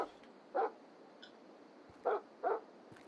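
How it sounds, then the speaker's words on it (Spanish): A dog in the video game The Final Station gives three short, muffled barks, one alone and then a quick pair, over a quiet, hissy game ambience. "He oído como un perro"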